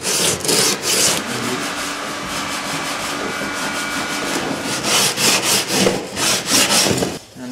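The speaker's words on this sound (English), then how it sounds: "you can just sand it by hand now" Steady hand sanding of wood in a woodworking workshop, a continuous rasping rub with rhythmic strokes that grow choppier toward the end, close and fairly loud with no talk.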